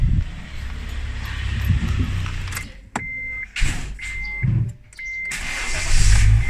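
An old car with a stock setup cranks in short bursts, then catches and starts, its engine revving up loudly close by, with brief beeps and gaps between attempts.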